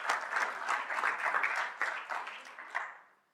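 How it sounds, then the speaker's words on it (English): Audience applause for a man named Reg at a tech forum awards event, a steady wash of many hands clapping that swells briefly, then fades out toward the end. "And what about a big round of applause for Reg?"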